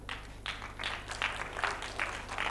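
An audience claps together in a lecture hall during a nature talk, a steady wash of applause in bursts that lasts the whole stretch, with no one speaking over it.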